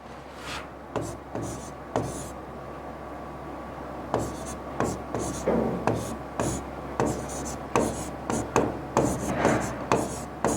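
A marker or chalk scratches across a board in short rhythmic strokes and scribbles, close and fairly clear, in repeated bursts during a reasoning class about calendars.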